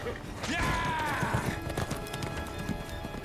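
Horse in the video game Nioh 2, a neigh with rising and falling pitch early on and soft hoof clops scattered beneath it. Game sounds and background noise run throughout.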